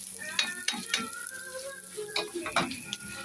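Corned beef sizzles in a pan as it is stirred, with soft crackling frying under a string of scraping and clinking stirring strokes, close and moderately quiet.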